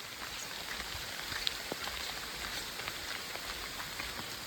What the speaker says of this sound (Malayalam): മഴ പെയ്ത് കോട്ടിടാതെ നിവർത്തിയില്ല.